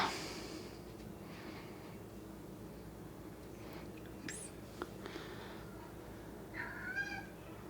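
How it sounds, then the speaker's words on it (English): A pet cat at home gives a few soft, brief meows and snorting breaths, faint against a steady room hum, with no one speaking. "there goes my cat."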